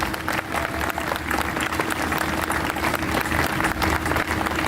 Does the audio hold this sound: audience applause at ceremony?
yes